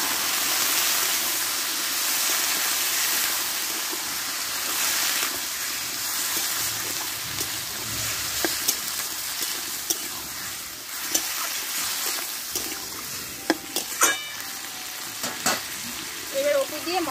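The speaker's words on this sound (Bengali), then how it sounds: "এবার জলটা আমি দিয়ে দেবো পরিমাণ মতো" Spiced masala with mustard paste and a little sugar sizzles loudly in a pan as water goes in, a dense, steady hiss that later breaks into scattered clinks and stirring knocks.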